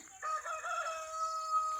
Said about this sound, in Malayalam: ആ കോഴി കൂവൽ നിർത്തിയിട്ടില്ല